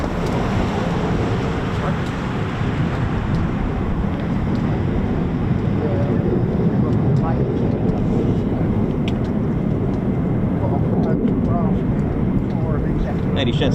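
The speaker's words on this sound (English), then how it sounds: "Next up, we got F-15E Strike Eagles as well." F-15E Strike Eagle fighter jet at RAF Lakenheath, a constant broad engine roar that stays loud and steady throughout, with a voice talking over it at times.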